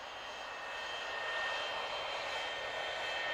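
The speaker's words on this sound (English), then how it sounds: "It's Jeremy the plane." Steady, loud droning engine of a cartoon airplane in Thomas & Friends, a continuous whooshing roar that swells slightly and holds without a break.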